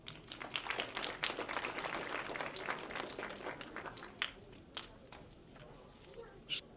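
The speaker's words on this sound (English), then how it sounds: "please give her a round of applause" An audience at a Ramadan ceremony in East Brunswick claps in a moderate burst that thins out, followed by a few scattered claps and footsteps in a quiet hall.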